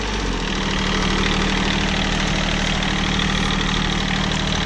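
Kubota B1550 compact tractor engine idling, a loud, steady diesel rumble with a knocking chug that runs the whole time without a break and no voices.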